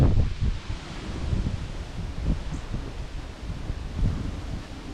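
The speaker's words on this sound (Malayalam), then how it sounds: "എന്തൊരു കാറ്റ്." Strong gusting wind roars through eucalyptus trees and vegetable plants such as tomato and bitter gourd vines, a loud, continuous rushing with buffeting microphone noise, surging and easing with no talk.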